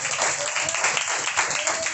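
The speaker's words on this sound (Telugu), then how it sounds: "కోటి చప్పట్ల." A church congregation claps during a Sunday worship sermon, a brief burst of fairly faint, uneven applause with some voices mixed in.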